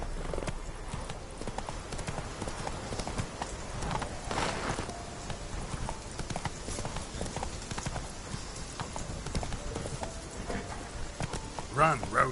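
Video game horse named Roach galloping, with steady clip-clop hooves pounding at a close, even rhythm throughout, under occasional voice commands.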